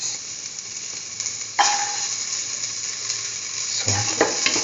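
Garlic pieces sizzle steadily in a pan for a curried chayote and bell pepper stew, with a louder hiss and brief stirring bursts partway through.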